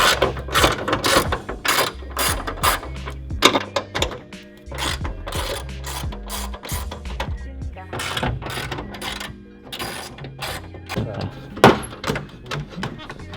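A hand ratchet loosens 12 mm nuts holding the hood of a Nissan 370Z, its close, rapid clicking coming in repeated bursts mixed with metallic clunks and brief pauses.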